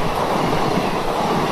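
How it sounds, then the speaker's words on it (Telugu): An ICF passenger train, the Hyderabad Deccan to Cuttack summer special with unreserved sleeper coaches, rushes past close by with a loud, steady roar and rattling of wheels on track, with no talking. "చూడండి దూసుకెళ్తుంది ఐసీఎఫ్"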